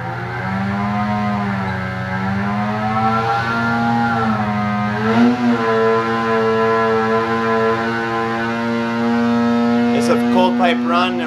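A 2020 Arctic Cat Alpha snowmobile engine runs on a dyno during a cold pipe run. It gives a loud, sustained tonal drone that rises and falls in pitch, with a sharp rev and crackle toward the end.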